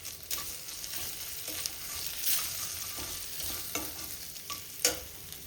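Spiced mixture frying and being stirred in a pan for samosa filling, with turmeric added; a steady sizzle runs throughout, broken by spoon scrapes and clinks, close and moderately loud, with no talking.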